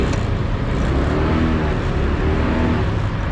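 Vehicle driving around a scrapyard, a steady, loud engine and road rumble close by that holds even without pauses.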